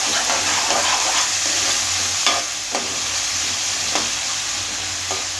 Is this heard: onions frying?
yes